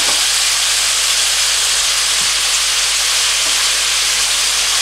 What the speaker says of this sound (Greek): θα βάλω τώρα και το κρεμμύδι